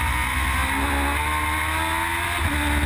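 A Formula Gulf 1000 race car at Dubai Autodrome brakes hard into a corner, its dense engine roar steady and loud throughout with a faint tire edge and no voices.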